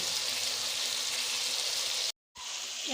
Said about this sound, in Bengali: এখন আমি এই চিকেনগুলো ভেজে নেবো সুন্দর করে